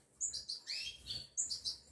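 Young goldfinches in an aviary give a rapid series of high, thin chirps, about eight short calls in two bursts, close and fairly faint.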